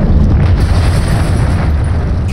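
A conventional missile detonates in Minecraft with the Voltz mod: a loud, sustained, rumbling blast with dense low-end roar that holds steady for a couple of seconds, with no voices.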